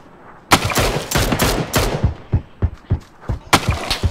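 Video-game gunfire from the left side: rapid, loud bursts of shots that begin about half a second in and keep snapping in quick clusters, with a few separate single cracks near the end.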